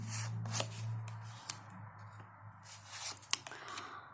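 Tarot cards being shuffled in short riffling bursts close up, quiet and papery, with a low hum in the background.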